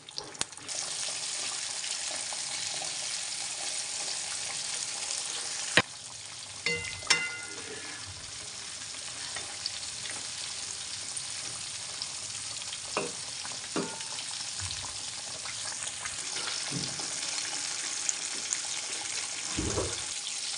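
Fish sizzles steadily in hot oil over a medium flame, a continuous frying hiss broken by a few clinks and scrapes of stirring and faint water sounds, with no talking.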